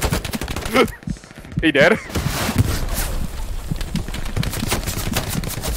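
Gunfire from the World War II shooter Hell Let Loose cracks out in sharp bursts and rapid automatic fire among trees, loud and near, with a player talking over it.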